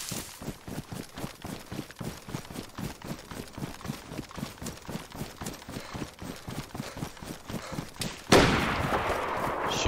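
Rapid, steady bursts of automatic gunfire in a multiplayer shooter game, loud and close, firing continuously for about eight seconds before giving way to a louder, noisier rush at the end; no talk.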